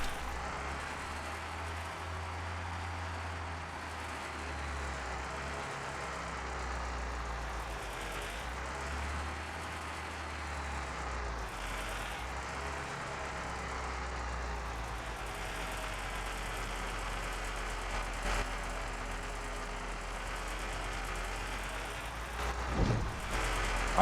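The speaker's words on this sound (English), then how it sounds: "It sounds like a little peep squeak, the 18-wheeler truck." An 18-wheeler truck engine in Port Logistics Simulator idles and runs in a low, steady drone that swells and dips slightly in pitch, fairly quiet and unbroken for the whole stretch, with no talking.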